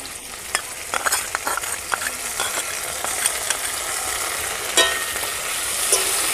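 A paste of tomato, green chilli and ginger fries in a pan, a loud, steady sizzle layered with repeated scraping stir strokes, close and without talk.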